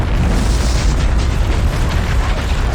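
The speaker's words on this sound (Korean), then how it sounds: "とんでもない大噴火です。" A massive volcanic eruption explosion, a dense, continuous deep roar and rumble that stays loud and unbroken throughout, with no voices.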